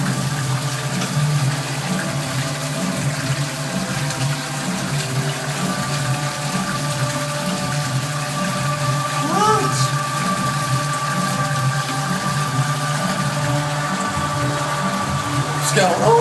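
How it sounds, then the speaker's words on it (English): A toilet flushes on and on for a very long time, a continuous loud rush and hiss of running water with a steady pump-like hum underneath, unbroken throughout. "Longest flush ever."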